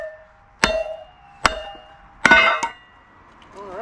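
Maple wood struck on a Kindling Cracker splitter, three or four sharp, ringing metallic whacks spaced irregularly, close and loud in an otherwise quiet outdoor space.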